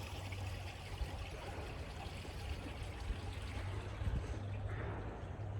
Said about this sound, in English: And that's flowing 24 hours a day, 7 days a week. That water is non-stop.